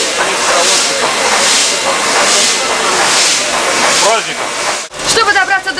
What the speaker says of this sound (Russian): Спустя годы легендарный паровоз прогудел на Самарском вокзале.